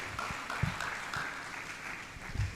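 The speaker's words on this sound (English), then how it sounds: "Another round of applause for our Vice Chancellor." Audience applause at a university science and technology fair, honoring the vice chancellor; a steady, moderately distant wash of clapping that holds for a couple of seconds, with a louder burst at the very end.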